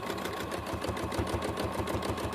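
A sewing machine stitches a punch pad with thread, running at a fast, steady mechanical rhythm with a constant close whirring hum throughout.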